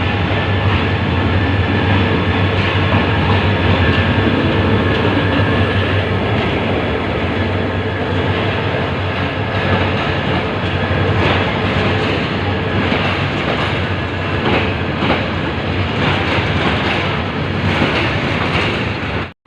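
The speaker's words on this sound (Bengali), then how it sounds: "ফাইনালি ট্রেনটা আইছে" A train pulls into a busy station, its loud, continuous rumble and rhythmic clatter of wagons filling the whole stretch up close, with a low steady drone underneath and no talk on top.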